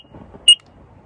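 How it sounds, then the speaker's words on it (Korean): A carbon monoxide alarm from Sky One, bought for solo camping in a tent, gives a single short, loud electronic beep that stands alone against a quiet background. "스카이원 거 일산화탄소 경보기"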